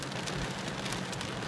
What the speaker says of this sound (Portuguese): vocês estão vendo a chuva aí, né?